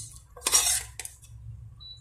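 Cooked chicken and vegetables transferred into a serving dish, with a couple of clinks of a metal spoon against the dish standing out over a low steady kitchen hum.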